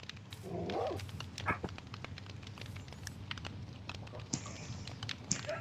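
Dogs bark and yip in Minecraft, a survival multiplayer game, with a few short sharp calls over a steady low background hum, fairly close and moderately loud.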